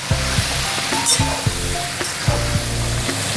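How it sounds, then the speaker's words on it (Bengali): Pointed gourd frying with salt and turmeric sizzles steadily in a pan, with soft clicks and stirring scrapes scattered through the hiss. "এই লবণ আর হলুদ দিয়ে পটলগুলো একটু ভেজে নেব।"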